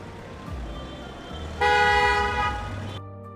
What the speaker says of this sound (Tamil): அப்போது ஒரு ஹாரன் சவுண்டு.